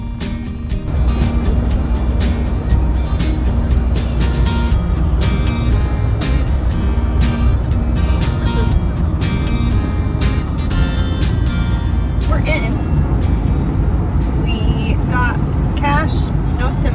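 Camper van cruising on a road in Morocco, steady engine and tyre rumble under near-continuous talking from people inside the cabin.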